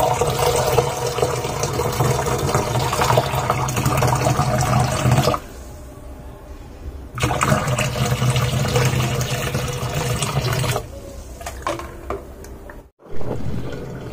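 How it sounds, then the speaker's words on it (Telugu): A bucket of hot water poured into a dishwasher drain, a loud continuous gush and gurgle close by, stopping briefly midway before resuming and then trailing off. "నేను ఇప్పుడు ఒక బకెట్ నిండా హాట్ వాటర్ తీసుకున్నాను. చూద్దాం ఇందులో పోస్తే వాటర్ పోతున్నాయో లేవు."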